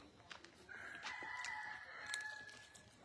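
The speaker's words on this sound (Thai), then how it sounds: "เสียงไก่ก็แล้วแอกก็แล้วแอก" A rooster crows once at a distance on monastery grounds, a faint drawn-out call over soft background noise.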